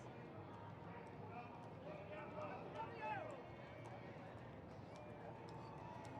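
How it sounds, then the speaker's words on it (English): Horse hooves clip-clopping along a street during the Houston Rodeo parade, a steady rhythmic clatter at moderate distance beneath continuous crowd noise and a commentator talking over it, with a faint rising squeal near the middle. "Joey Pettigo looking so good up there on his horse"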